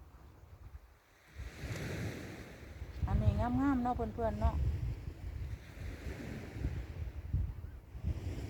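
Sea waves wash steadily onto a beach at about eight in the evening, a continuous rushing surf with wind noise, while a person talks over it.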